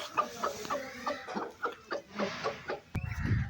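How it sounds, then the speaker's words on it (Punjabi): A black rooster clucks in short repeated bursts while being fed rotis, fairly close by, ending in a louder rustling flurry. "ਆਪਣਾ ਕਾਲਾ ਮੁਰਗਾ ਇਹਨੂੰ ਖਲਾਉਂਦੇ ਹਾਂ ਰੋਟੀਆਂ"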